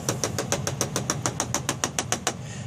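A brush handle taps along model railway ballast in a quick, even series of about fifteen light wooden knocks, close and crisp.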